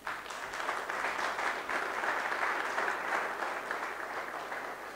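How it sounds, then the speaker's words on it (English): Audience applause at a STEM education forum in Ghana, a sustained and even round of clapping from a seated crowd, moderately loud and continuous, with little talk. "And you clap for them."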